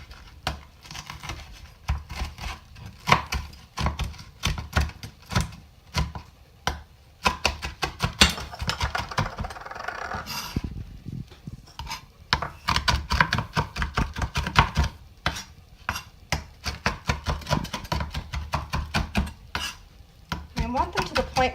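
Rapid, repeated knife chops through cooked bacon on a cutting board come in uneven bursts, sharp close taps with short pauses between runs.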